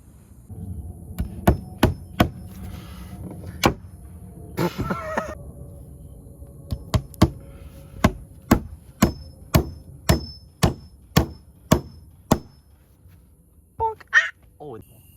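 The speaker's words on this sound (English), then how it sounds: "we're gonna try to hammer in as many as we can" Nails are hammered into a wooden fort platform deck in the woods, sharp ringing strikes at first scattered, then a steady run of evenly spaced blows, close and loud, with brief bird calls near the end.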